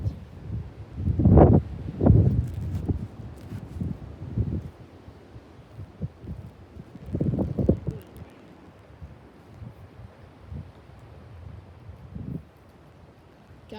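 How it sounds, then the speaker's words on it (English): Gusty wind roars against a microphone outdoors, loud bursts rising and fading over a constant lower rush of air. "Frick you, wind."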